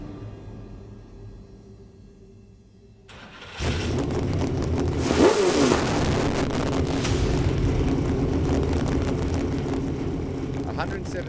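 A Supercars race car in the pit lane is fired up. Its engine catches abruptly after a quiet moment, revs sharply once, then settles into a loud, steady, rough idle.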